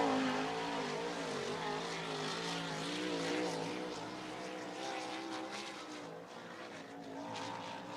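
A USAC midget race car laps Bridgeport Speedway during a USAC Eastern Storm national championship event, its engine droning steadily and loud throughout, the pitch rising and falling as it works around the dirt oval.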